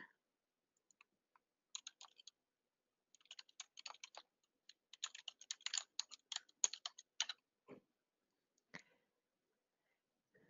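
Quiet, close typing of a library search on a computer keyboard, in short irregular bursts of light key clicks separated by silent pauses.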